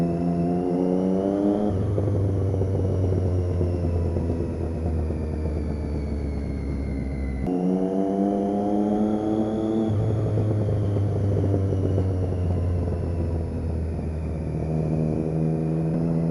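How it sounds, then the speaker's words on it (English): A Triumph motorcycle with a new exhaust accelerates hard through the gears, its engine note rising in long sweeps and then dropping at each shift, loud and close under steady wind roar. "God, I love the sound of this bike."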